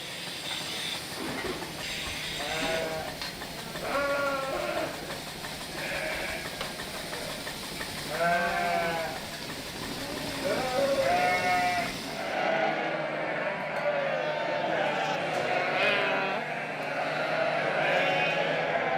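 Sardinian sheep bleating in Sardinia, several wavering calls spread over a constant low rumbling background, moderately close and overlapping at times.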